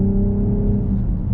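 BMW X5 with the M Sport package and sport exhaust accelerating, heard from inside the cabin as a loud, steady low engine drone without talk.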